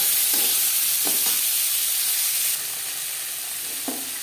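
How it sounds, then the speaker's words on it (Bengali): Bay leaf, green chili and peas frying in a pan for moong dal, a constant bright hiss of hot oil with a few soft stirring scrapes, the sizzle easing slightly partway through. "দিয়ে তেজপাতা লঙ্কা সাথে ভেজে নেওয়ার পর দিয়ে দেবো মটরশুঁটি"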